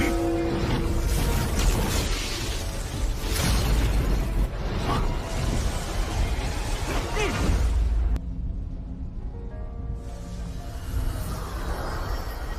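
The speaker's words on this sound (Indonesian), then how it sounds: "Setelah terkena ledakan teratai kemarahan Buddha dari jarak dekat, Yun-san terjatuh dari ketinggian yang begit" A dense, roaring animated fantasy battle blast with booming low rumble and crackling debris sweeps through, followed by a brief lull and another swelling burst.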